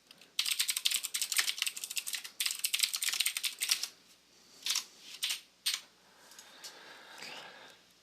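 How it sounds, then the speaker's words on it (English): Fingers tap rapidly on a computer keyboard in dense bursts of clicking, then slow to a few isolated keystrokes and quieter scattered taps, close and fairly crisp in a quiet room. "I cannot type apparently"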